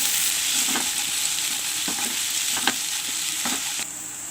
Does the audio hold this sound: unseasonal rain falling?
no